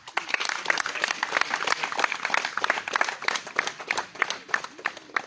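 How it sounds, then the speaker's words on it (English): A crowd at a guild gathering applauds, a steady patter of many hands clapping at moderate distance with faint voices mixed in. "Let us just applaud our excellence."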